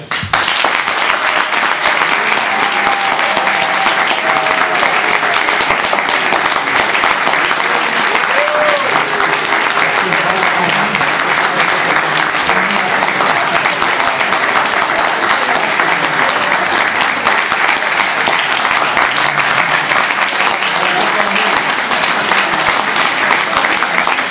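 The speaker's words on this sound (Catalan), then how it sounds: "I ho farem per aplaudiments." Loud, sustained audience applause fills a cooking show about pork dishes as the crowd votes on a mountain-style dish, steady dense clapping throughout with a murmur of voices beneath.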